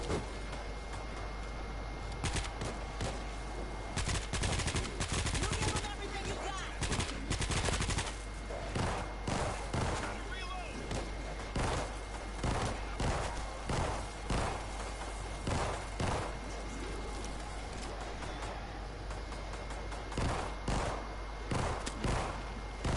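Gunfire in World War Z horde mode: dense, repeated bursts of rifle and automatic fire, some single cracks and some long rattling volleys, close and loud throughout the clip, with no talking.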